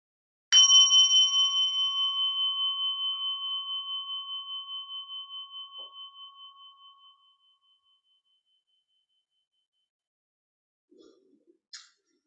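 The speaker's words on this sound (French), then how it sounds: "je vais inviter à son de cloche" A single strike of a meditation bell rings out clear and pure, its bright tone fading slowly over several seconds into silence, followed by a faint brief rustle near the end.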